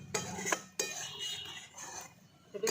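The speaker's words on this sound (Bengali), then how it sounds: "দিয়ে দিচ্ছি এলাচ গুঁড়ো। সব কিছু একসঙ্গে ভালো করে মিশিয়ে নিচ্ছি।" A spoon stirs a kulfi mixture with cardamom powder in a pan, scraping and clinking against the metal with a few sharp knocks between stretches of steady scraping, close by and with no voices.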